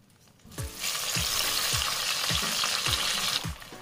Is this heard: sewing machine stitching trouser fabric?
no